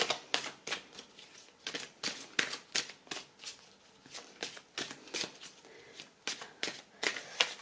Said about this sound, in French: je vais prendre maintenant 3 cartes avec Dorine Virtue